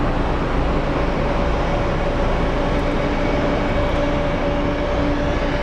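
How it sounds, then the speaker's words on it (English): An Alaska Horizon Air Embraer jet comes in to land at Phoenix Sky Harbor International Airport, a loud, steady broadband engine roar that holds evenly throughout. "here comes an Alaska Horizon Air Embraer coming in"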